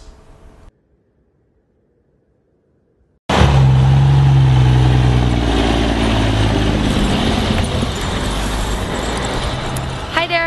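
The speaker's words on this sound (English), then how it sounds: "We arrived just in time to see the last of the caribou habitat being hauled away in trucks" Near Clearwater, BC, logging trucks haul away timber cut from caribou habitat. After a few seconds of quiet, a loud, close engine roars up suddenly and rumbles on steadily, with a person talking over it.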